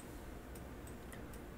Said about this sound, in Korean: 지금 제 마우스 소리 들리시죠?